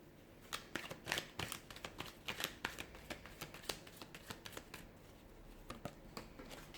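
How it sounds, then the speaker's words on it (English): Tarot cards being shuffled close by, a steady run of soft riffling flicks and light slaps, quiet and continuous with no talking. "So we'll give the cards a shuffle"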